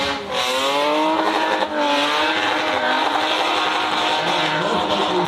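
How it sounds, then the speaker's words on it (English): A drift car at a plains drifting event drops tires into the dirt and spins, its engine howling at high revs with wavering pitch and sustained tire squeal, loud and continuous throughout. "And Hicks going to spin"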